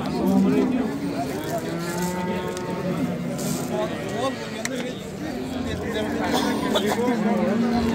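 Cattle moo repeatedly at a busy Uzbek livestock bazaar, the calls loud and close above a steady crowd murmur and chatter, with someone speaking nearby.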